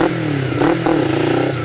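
Motorcycle engine revving steadily with the clutch slipped during wheelie practice, a continuous close, loud drone with two brief surges in pitch partway through.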